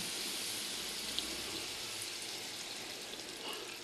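Water pouring into a cooking pan while making adobong sitaw: a faint, steady splashing hiss that runs evenly for about four seconds, quiet and unbroken, with no talk over it.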